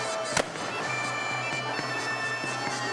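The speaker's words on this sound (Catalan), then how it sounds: "el Drac de Reus va donar el tret de sortida a la carretillada" Carretillada fireworks set off at the Sant Pere festival in Reus, with one sharp loud bang followed by a dense continuous fizz and crackle of burning pyrotechnics and a few fainter pops.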